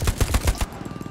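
Rapid bursts of automatic gunfire in the World War II shooter Hell Let Loose, on Hill 400: about five loud, close shots in a quick rhythm, then fainter distant shots trailing off.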